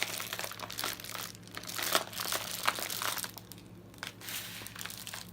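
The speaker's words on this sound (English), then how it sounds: "take your meal pouch, like so, fold it over, like so" A plastic trail meal pouch folded over by hand gives close crinkling and crumpling in irregular bursts, some sharper crackles standing out, with no talking.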